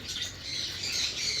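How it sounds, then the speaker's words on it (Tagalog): Lovebirds at a bird sale give shrill, overlapping squawks that run continuously and loudly through the short clip, with no talk over them. "Ito mga ibon, yan."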